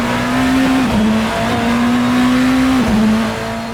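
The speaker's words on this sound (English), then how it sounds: "So right now all you're hearing is the internal combustion engine" A BMW M Hybrid V8 race car engine in the video game Assetto Corsa, at Mugello, holds a steady high drone, dipping briefly twice as it shifts, then climbing back; loud and continuous, no voices.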